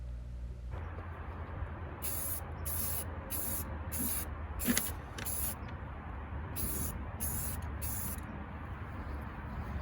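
Clear coat paint is sprayed inside the engine bay of an Alfa Romeo under restoration, a series of short, even bursts of airy spray in two groups over a constant low background hum.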